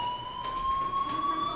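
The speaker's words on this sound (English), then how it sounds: "Hey, do you hear that fire alarm?" A school fire alarm from the video game Life is Strange sounds as a steady, piercing electronic tone, moderately loud and continuous throughout, with no voices.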